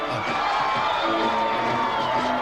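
A large crowd in Tampa, Florida cheers and whoops steadily, celebrating the Tampa Bay Buccaneers' NFC Championship win; the roar is loud and dense throughout, with cries rising above it.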